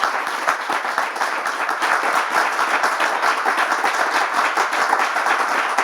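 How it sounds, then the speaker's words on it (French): A congregation applauds a pastor with dense, steady clapping from a sizable crowd, loud and continuous from start to finish. "On peut applaudir très fort"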